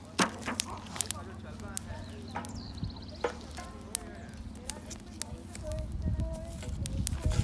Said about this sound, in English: Okay, the crackling sound.